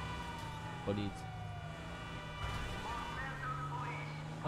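A siren wails in GTA Online, its tone sweeping up and down at moderate distance, while other game noises and a voice play over it.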